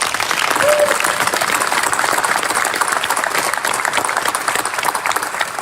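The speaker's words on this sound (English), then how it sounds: "let's give her a round of applause there." A crowd at a police chief's swearing-in ceremony in Sacramento breaks into sustained applause, a dense, even roar of clapping that stays loud for the whole stretch.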